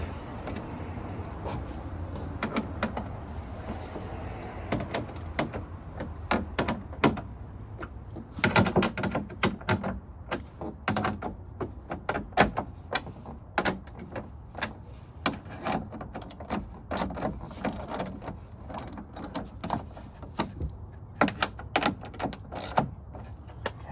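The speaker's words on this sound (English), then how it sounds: "So we're just going to go through and hand crank all these." Bolts being turned by hand with a ratchet while fitting a new fiberglass front spoiler to a Chevrolet Corvette C3: steady, close ticking clicks in irregular runs over a low background, with no talking.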